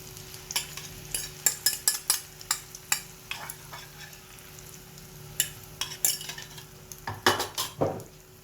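Beaten eggs poured into not-yet-hot oil for a Thai omelette, a faint sizzle under repeated clinks and scrapes of a spatula against the pan, close and without talk.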